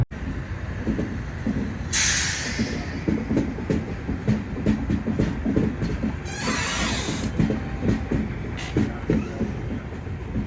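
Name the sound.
Secunderabad to Vasco da Gama Express train running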